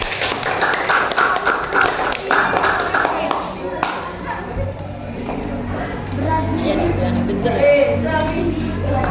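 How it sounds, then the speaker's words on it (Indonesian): A small group claps in quick, uneven bursts, with children's voices chattering over and around the clapping. "Tepuk tangan untuk teman kita dulu"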